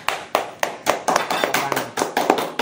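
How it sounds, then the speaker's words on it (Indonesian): Claps from a studio audience on an Indonesian comedy podcast, sharp and close, following one another in a quick uneven rhythm that breaks into separate bursts. "Tepuk tangan."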